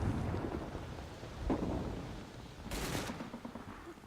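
Mortar explosions in the Combat Mission Battle for Normandy war game, low rumbling booms rolling in at a distance, with one sharper crack partway through and a muffled, thundery tail.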